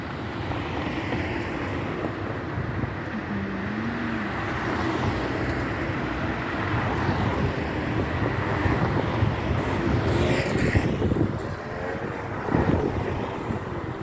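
Wind sweeps over an outdoor field of tulip trees, a steady rushing and buffeting roar on the microphone that rises and falls in gusts for the whole stretch, with no one speaking.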